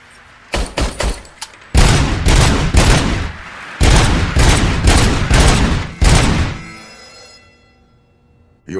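Service pistol firing at a shooting range in RoboCop: Rogue City, a fast series of loud, heavy shots in rapid bursts with brief pauses between them, then a ringing tail fading into quiet.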